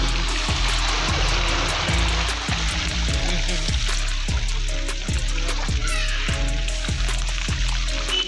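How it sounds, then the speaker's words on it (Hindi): Water sloshes and splashes in rhythmic surges, steps wading through deep, rubbish-strewn flood water on a street in Muzaffarpur, with a steady background hum and a brief high squeal. "इधर पूरा पार्ट का पानी पूरा लगा हुआ है और इसी पानी को पार करना है।"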